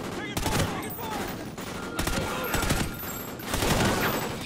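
Dense automatic gunfire in Call of Duty Ghosts, a close, loud volley of rapid shots with sharp individual cracks spread across the whole stretch.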